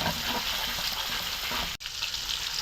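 Onion and garam masala sizzling in hot oil for egg biryani, a loud, steady close-up frying hiss with a brief dip as something is stirred.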